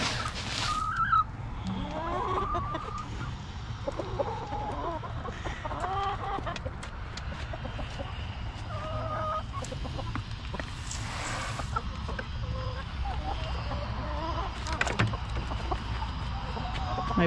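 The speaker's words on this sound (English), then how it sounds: "My beautiful rooster." A rooster and other chickens cluck and crow outdoors on a foggy morning, repeated calls near and far at moderate volume over a quiet farmyard background.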